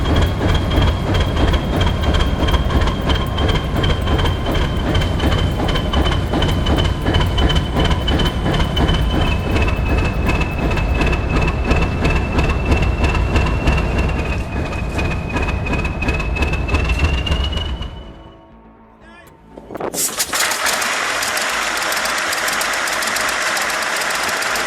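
A 1,600 horsepower V12 diesel locomotive engine roars loudly and steadily at close range, a sustained deep rumble with a high whine that drops out abruptly near the end before the loud roar resumes.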